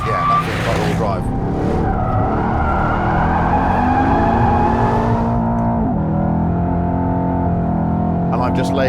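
A Mercedes-AMG car accelerates hard on a race track, in third gear out of a hairpin, engine roaring steadily with tires squealing, loud and close throughout, with someone talking over it.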